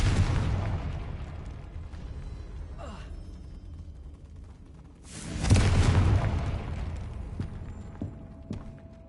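A Confringo fire spell explodes in the Hogwarts Legacy video game, a booming burst with a rushing roar partway through over a steady game ambience.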